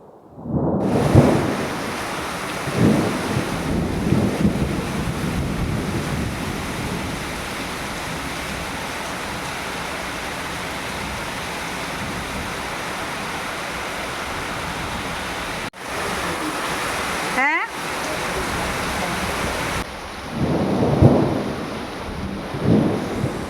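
Heavy rain pours down in a dense, steady roar that stays loud and close throughout, with a few brief swells and drops in level and no one talking.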